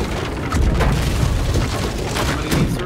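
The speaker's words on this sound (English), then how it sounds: "Side, prep the cannons! Fire!" Ship cannons fire in the pirate naval game Blackwake, a dense run of heavy low booms with bigger blasts near the start and end, loud and continuous over battle noise.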